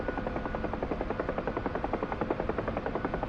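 A Huey helicopter in flight over Afghanistan, its rotor blades thumping in a fast steady rhythm over a loud continuous engine drone, heard close from inside the aircraft.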